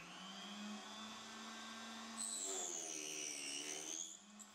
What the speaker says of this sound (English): insert the angle stop into the groove on the saw table, and start sawing.